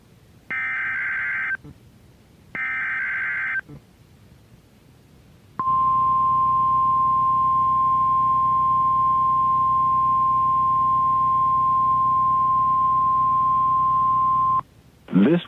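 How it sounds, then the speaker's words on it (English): NOAA Weather Radio warning alarm during a weekly test: two short, buzzy data bursts, then a long, loud, steady tone lasting around nine seconds, cut off by a brief final burst. "Following the alarm tone, your receiver should have turned on automatically."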